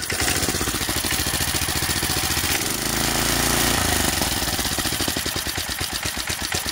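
A Briggs and Stratton 4 hp engine on a tiller runs steadily at close range with a rapid, even mechanical chatter, dipping briefly in pitch midway before returning to its regular pulsing idle.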